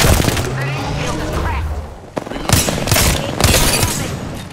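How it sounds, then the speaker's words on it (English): Bursts of gunfire strike an enemy shield in Apex Legends, the shots loud and close in quick clusters after a brief lull, over a dense game mix with faint voices beneath. "I shot at an enemy shield."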